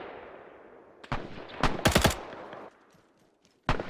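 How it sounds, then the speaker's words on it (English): Enemy gunfire in the video game Arma 3, set in a WWII British training operation: sharp bursts of rifle and machine-gun shots crack over a faint background hiss, with a single shot after a pause. "That's enemy fire coming from that flat wall over there."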